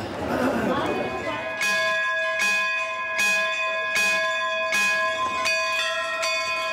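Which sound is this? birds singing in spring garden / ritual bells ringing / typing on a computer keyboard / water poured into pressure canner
ritual bells ringing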